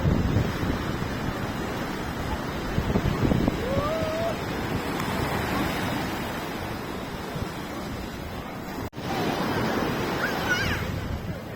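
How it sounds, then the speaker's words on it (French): Waves break and wash along the seashore at Paradise Beach in Pondicherry, a steady roar of surf mixed with heavy wind buffeting the microphone throughout. "Le bord de mer est très joli"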